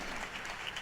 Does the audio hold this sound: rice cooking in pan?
no